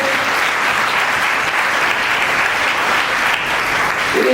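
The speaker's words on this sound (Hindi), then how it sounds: "आपको धन्यवाद देती हूँ एक बार जोरदार तालियों से।" Audience at a Hindi-language memorial discussion and award ceremony claps loudly and steadily for several seconds, a dense even sound of many hands filling the hall.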